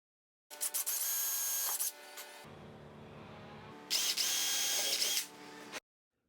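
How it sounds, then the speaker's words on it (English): A power drill bores through a Porsche 997 GT2 side skirt to mount a bracket for riveting, two close whining bursts with a quieter pause between them. "Let's drill out the side skirt and rivet the bracket in place."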